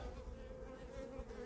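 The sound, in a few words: honey bees buzzing at a beehive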